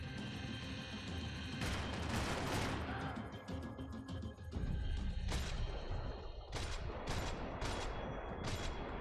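Gunfire in the video game Max Payne 3, a mix of sustained shooting and explosive bursts with several sharp, loud cracks in the second half over a dense, rumbling action soundscape.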